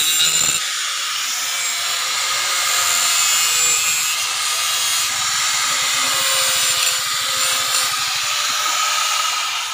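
A steady, loud, high-pitched grinding whine continues without a break as an angle grinder works on a new motorcycle exhaust pipe, with no voices.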